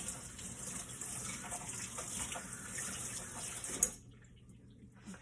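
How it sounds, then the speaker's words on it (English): Cucumber rinsed under running kitchen tap water, a steady close hiss and splash that cuts off near the end, leaving quiet room tone. "I'm gonna go ahead and rinse this off."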